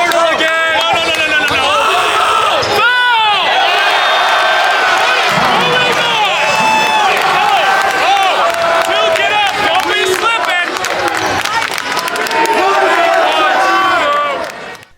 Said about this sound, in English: an example of the student section at UCSB basketball games cheering on their team after a score